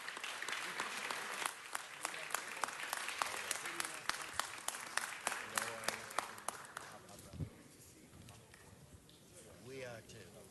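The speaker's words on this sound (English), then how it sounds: "Everybody, let's give the Dodgers a round of applause" Crowd at Los Angeles City Hall applauds the Dodgers, a loud sustained roll of clapping with sharp individual claps for about seven seconds before it dies away into murmuring voices.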